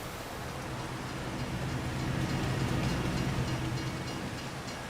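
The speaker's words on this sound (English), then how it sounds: "Oh, the train's coming." A train rolls past in the Farming Simulator 25 video game, a steady, dense rumble with faint clatter that swells slightly near the middle and holds for about five seconds.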